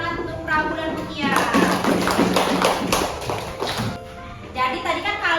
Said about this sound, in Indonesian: Beri tepuk tangan untuk Prabu dan Mutia